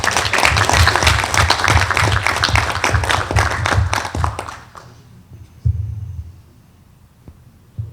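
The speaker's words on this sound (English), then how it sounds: "One more round of applause." An audience at a town council meeting claps in loud, sustained applause that fills the room and then fades over a few seconds, leaving a quiet hall with a couple of faint thumps.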